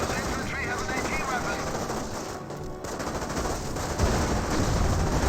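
Flak gun from an Allied base in Company of Heroes firing rapid repeated bursts amid a dense, continuous battle din, with steady loud crackling gunfire throughout.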